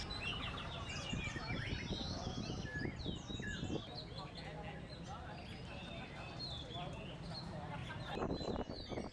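Dense chorus of small birds chirping and twittering at a Vietnamese bird cafe in the city, many overlapping calls close by over a busy murmur of people and street noise.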